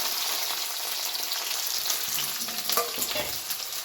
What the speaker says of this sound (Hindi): प्याज को हल्का सा फ्राई किया करेंगे